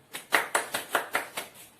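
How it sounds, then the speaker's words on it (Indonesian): A small classroom group claps for a student, about eight distinct, fairly even claps in a quick steady rhythm, close and moderately loud, with no talking. "Mari kita semua sama-sama tepuk tangan untuk teman yang telah menceritakan."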